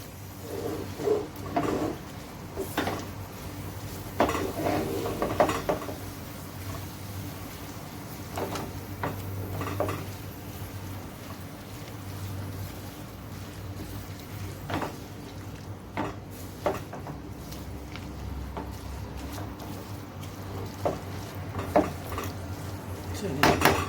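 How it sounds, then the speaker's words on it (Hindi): A spoon stirs aloo methi, fenugreek leaves with potatoes, as it fries in a pan, giving repeated scraping and clinking strokes over a low steady hum, close and moderately loud. "इसको आपने भूनते हुए चम्मच को चलाते रहना है।"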